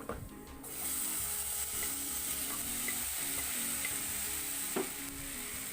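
Chopped plantain (ethapazham) sizzles in a hot pan as it is stirred and sautéed, a steady frying hiss with occasional scraping of the spatula against the pan, and no talking.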